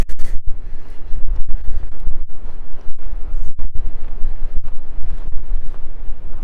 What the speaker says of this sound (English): This is always a very windy corner